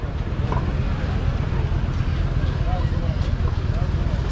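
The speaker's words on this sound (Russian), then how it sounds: "Ё-моё, вот это движок." A boat engine runs at a Navy Day event in Sevastopol, a steady low rumbling drone mixed with wind noise. People talk close by over the engine.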